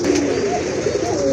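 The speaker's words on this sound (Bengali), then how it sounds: "বিশাল সাইজের একটা নর কবুতর" A huge male Rajgolla pigeon with deep red plumage and a bold neck marking coos steadily and close up, a continuous low, throaty rolling call.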